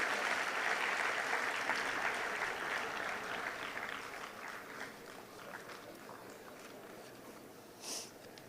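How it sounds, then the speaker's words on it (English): Sustained audience applause at a national eminence award ceremony fills the hall, loud at first and gradually thinning out over several seconds, with a brief louder burst near the end. "He deserves a big round of applause for Dr. Sivathanu Pillai."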